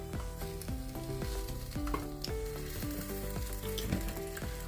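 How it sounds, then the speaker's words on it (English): Onions fry in olive oil, a strong close sizzle with steady crackle and rhythmic stirring strokes, continuing evenly without any voices. "I'm going to let these fry until it's golden brown"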